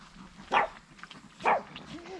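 Chihuahua puppies at play by a pool give two short, sharp yips about a second apart, close and fairly loud over quiet outdoor background.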